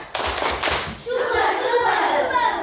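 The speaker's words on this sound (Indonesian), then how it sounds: "Kita kasih tepuk super untuk mereka berdua ya." A classroom of children performs a rhythmic 'tepuk super' clapping cheer, a quick series of sharp claps followed by a burst of young voices shouting together, fairly close and lively.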